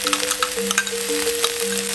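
Sausage and vegetables stir-fry in a pan with ketchup and mustard, sizzling steadily and close, with scattered crackles and spatters, no talking.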